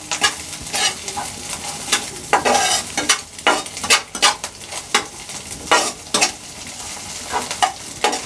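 Puffed rice, egg and chopped green chillies mixed together in a bowl, a close run of loud scraping, rustling stir strokes in an irregular rhythm.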